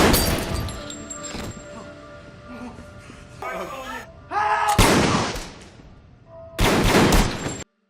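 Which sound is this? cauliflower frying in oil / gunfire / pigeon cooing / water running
gunfire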